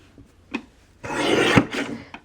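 A paper trimmer cuts dusty blue cardstock into skinny strips for scrapbook pages, making a small tap and then a close, dry, one-second rasping slide, with a light click at the end.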